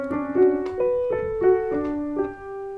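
Piano passage from Streabbog's Distant Bells, a short melodic phrase of sustained notes with one note played more softly, solo and close with no talking.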